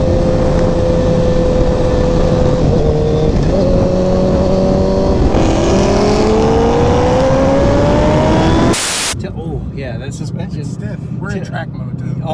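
A 2020 Ford Mustang Shelby GT500 Track Pack engine revs hard with a loud, rising roar and quick downshifts, then breaks into a harsher, lower rumble.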